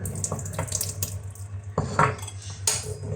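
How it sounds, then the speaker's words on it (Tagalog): Tap water runs steadily into a kitchen sink while steamed fish is being prepared, with dishes and cutlery clinking close by and no talking. "kunin natin ng tubig guys"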